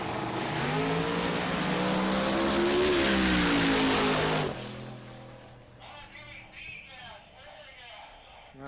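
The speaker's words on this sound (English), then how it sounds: "Solid pass for David Allman." A drag racing car makes a loud, roaring pass at a super gas and index class event, its engine rising and sustaining for about four seconds before cutting off abruptly, followed by quieter crowd and track ambience.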